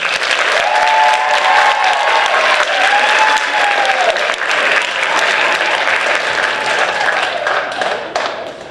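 Strong sustained clapping from an audience honoring a Hall of Fame inductee at a panel event, filling the room evenly for nearly nine seconds with a faint tonal whistle in the background.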